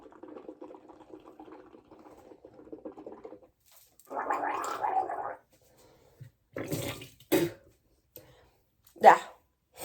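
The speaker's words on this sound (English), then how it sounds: "we're going to swish it around our mouth and gargle it too" Someone gargles a mouthful of sea salt water to clean a tongue piercing, with a bubbling gurgle in the middle and short swishing, spluttering mouth sounds after it, close to the microphone.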